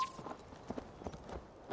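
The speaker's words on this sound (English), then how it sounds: "eu m-am suit pe căluțul meu" Horse hooves clip-clop at a walking pace in Assassin's Creed Valhalla, a handful of soft, fairly close footfalls in an irregular rhythm over a quiet background.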